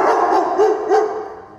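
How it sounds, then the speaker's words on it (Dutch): A large dog barks on command, giving a few quick, loud, close barks in a short burst with no talk over them. "Kan deze blaffen op commando?"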